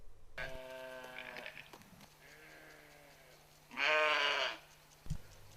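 A female goat bleats in several wavering calls: a long quavering cry, softer bleats, then a loud, close, strained bleat and a short final sound.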